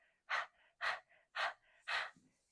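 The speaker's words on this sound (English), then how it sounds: "Maybe make some audible exhales" Four strong, evenly spaced audible exhales during breathing practice, each a sharp breathy burst with softer breaths between, close and clear with no speech.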